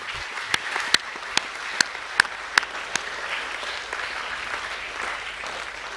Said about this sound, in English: can we give all of those support staff a round of applause